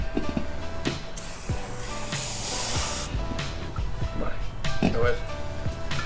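Residual air hisses out of a hose after the valve is shut during inflation of BMX bike tyres, a broad hiss that surges loudest for about a second amid clicks and handling knocks, with a voice talking around it.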